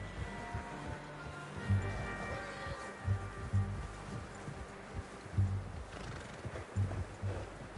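A horse in the Red Dead Redemption 2 video game snorts and whinnies while its hooves clop at an unhurried pace near the listener, over a quiet outdoor ambience.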